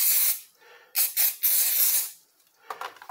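Contact cleaner sprays onto a Socket 478 CPU socket on a computer motherboard. There are several close, loud hissing bursts, one long spray and a few short puffs, with no talking.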